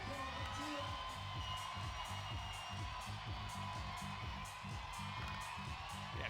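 A crowd cheers and whoops at an IFSC World Cup lead climbing final in Briançon, a lively vocal roar in the background beneath a steady hum.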